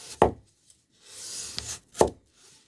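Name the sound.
new Tanaka Japanese knife cutting a potato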